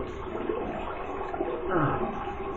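A bathroom tap runs in a steady splashing gush, close by, as cool water is used to rinse the face after a single-edge razor shave; the flow swells slightly near the end.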